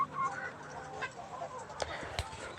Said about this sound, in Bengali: দেখেন সবগুলো মুরগি খুব সুন্দরভাবে আদার খাচ্ছে।